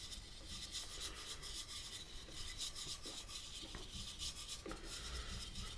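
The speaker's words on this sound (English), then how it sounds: "Just rub that all in. It just gives a little bit of lubrication." A cloth or hand rubs lubricant into a segmented wooden turning, making a steady, faint, close scratchy rasp that continues without pause.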